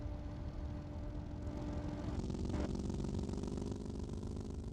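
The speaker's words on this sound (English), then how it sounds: "This is a V12 engine, so that's why it's making a high-pitched noise" A V12 tank engine in the Sprocket game whines steadily at a high pitch, a continuous droning hum with a brief surge partway through, heard alone.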